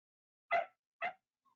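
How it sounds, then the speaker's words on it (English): A dog gives two short, sharp barks close by, evenly spaced, with silence around them. "It's a dog."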